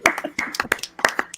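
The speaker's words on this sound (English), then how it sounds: "please give a round of applause for our lovely lady Violet Plus Size" Brief burst of hand clapping from a small audience at a live discussion event, several claps overlapping in quick irregular bursts, fairly close and moderately loud.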